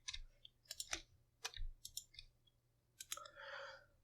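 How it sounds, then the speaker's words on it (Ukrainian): A computer mouse clicks repeatedly while drawing with the pen tool, alongside Shift key presses: a run of sharp, close clicks in an uneven rhythm, with brief pauses and some faint rustling between them. "Клікаємо Shift, клік, Shift, клік."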